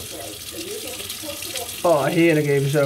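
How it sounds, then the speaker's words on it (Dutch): Running water at a sink splashes as someone throws water on their face, a steady faucet flow with a louder splash near the end, and a person speaks briefly over it. "we gaan eventjes water in mijn gezicht gooien"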